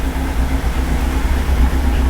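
A fully worked 4AGE engine in an AE86 runs steadily on a dyno, a continuous loud low drone holding an even tone throughout with no talking.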